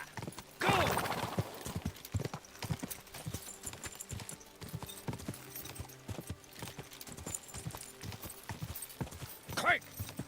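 Horse hooves clip-clop at a steady gallop in the medieval video game Kingdom Come: Deliverance 2, a rhythmic pounding that runs throughout, with short bursts of urgent shouting over it.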